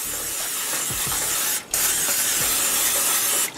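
Cooking spray hisses steadily onto a dish pan for a squash casserole in two long bursts, the second cut short by a brief pause, loud and close with no talk.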